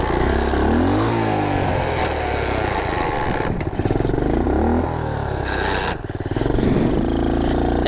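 A 1967 Honda CT-90 motorcycle riding a trail in third or fourth gear, its small engine droning steadily close by with rises and dips in revs and a couple of brief dropouts, no talking.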